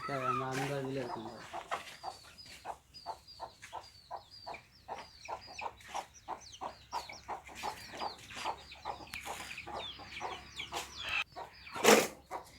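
Free-range country chickens cluck repeatedly in a coconut grove, short busy calls layered close and far, with a sharper louder squawk near the end.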